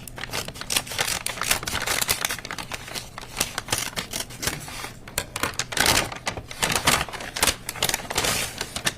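Scissors cut open an evidence package in a courtroom, a dense run of crisp snipping, clicking and crinkling close to the microphone for several seconds, with no talking.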